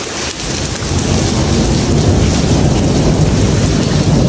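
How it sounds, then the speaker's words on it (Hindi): Heavy rain pours down in a dense, steady roar, with rumbling thunder mixed in, loud and close, and no voices. "बहुत तेज़ बारिश हो रही है यार"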